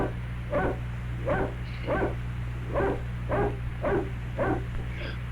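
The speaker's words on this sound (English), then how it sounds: "Is that a dog? That is in fact a dog." A dog in a film barks repeatedly in a steady rhythm, about eight sharp barks over a low constant hum, with no voices.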